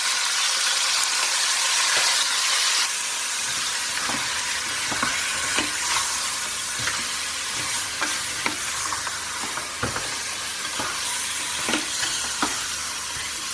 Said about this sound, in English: So we're just going to sear the meat.